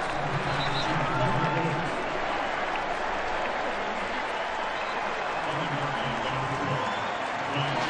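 Home crowd at a 2012 college football game, Oregon at USC, applauding a long catch-and-run by Robert Woods: steady, broad stadium clapping and cheering that holds for the full stretch, with voices mixed in.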